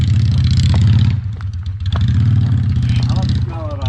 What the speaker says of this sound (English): That's the sound of a Harley